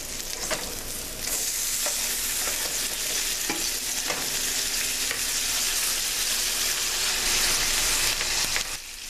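Chicken burger patties for a basil pesto burger fry in a pan with a steady, loud sizzle throughout, broken by a few sharp crackles and pops.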